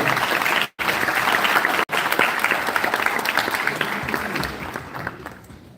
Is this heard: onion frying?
no